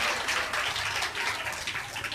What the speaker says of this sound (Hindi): आप लोगों के लिए जोरदार ताली बजाओ जोरदार ताली बजाओ